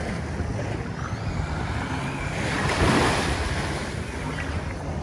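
Warm-water surf rolls onto Playa Norte beach on Isla Mujeres, a steady close wash of waves with wind buffeting the microphone and a brief swell in loudness near the middle.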